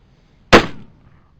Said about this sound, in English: So these will be the first shots.